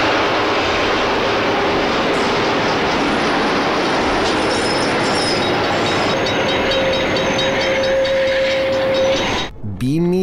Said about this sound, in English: the commuter train has managed to brake hard enough to come to a complete stop right in the nick of time